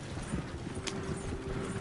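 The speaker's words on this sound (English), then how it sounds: "Horses won't go this fast for long." Horses gallop fast in the Red Dead Redemption 2 video game, a dense, steady rumble of hoofbeats under a wash of broadband noise with no clear gaps.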